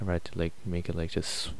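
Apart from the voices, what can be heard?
No everyday noises stand out.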